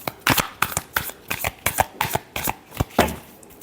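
Tarot cards being shuffled by hand, a brisk run of about a dozen crisp riffling bursts in quick, fairly regular succession, close and clear with no talk over them.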